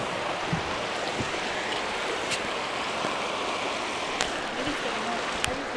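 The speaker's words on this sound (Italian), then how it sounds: "guardate che bello il fiume da qui," Steady rushing of a river flowing below a bridge, a continuous broadband wash of water with a few faint clicks and knocks on top, heard from above with no talking.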